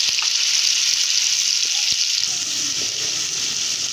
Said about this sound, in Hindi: इसे इसके अंदर डाल देंगे इस तरीके से। इसे फ्राई कर लेते हैं।